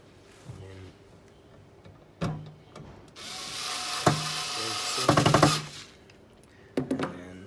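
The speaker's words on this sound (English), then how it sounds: "Normally you would screw in all 4 screws" Hinge screws being driven into a wooden toy box, a few knocks and a grinding, rasping stretch of screwing at close range, no speech.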